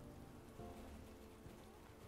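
A heavy rainstorm falls in the farming game Paleo Pines, a soft, even hiss of rain that hangs quiet and steady throughout with no talking.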